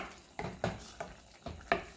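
A spicy garden tomato curry boils on high heat in a pan, with several sharp bubbling pops and splutters at an uneven rhythm, close and fairly quiet.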